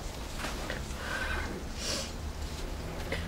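A dressage horse gives a high whinny at medium distance, rising above a steady background rumble with faint shuffling sounds.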